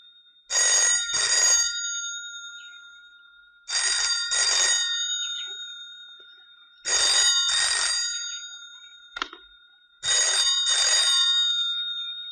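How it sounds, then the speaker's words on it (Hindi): An old telephone bell rings in four bursts, each a pair of loud, shrill electric trills separated by pauses, close and with no voices over it. "तार जब कनेक्टेड रहता है तो घंटी बजती नहीं, और डिस्कनेक्ट कर दीजिए तो बजने लग जाती"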